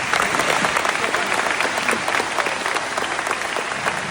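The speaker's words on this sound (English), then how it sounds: "Let's give them a big round of applause." A crowd of guests gives a big, sustained round of applause as veterans, law enforcement officers and first responders stand at a political campaign event, with dense, even clapping filling the room.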